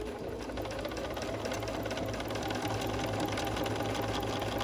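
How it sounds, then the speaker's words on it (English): A sewing machine stitching fabric pieces together, running at a steady fast rhythmic hum and rattle without a break, fairly quiet and close, with no talking. "that's how I'm going to get started with my sewing"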